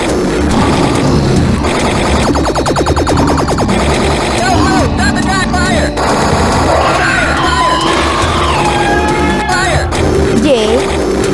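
Rapid video-game gunfire aimed at anomalies, dense bursts of shots layered over loud game music and effects, with yelling and excited talk running throughout.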